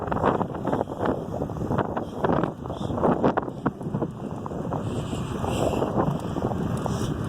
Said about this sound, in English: Sorry that there's a lot of wind.